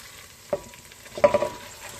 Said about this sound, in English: And now I shall add my eggplants